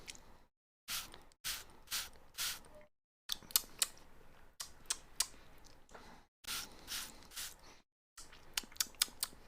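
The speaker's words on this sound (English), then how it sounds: "Can you guys hear the spray?" Banana milk spray sprayed in short hissing bursts, close and fairly quiet, about a dozen spurts separated by brief silent gaps.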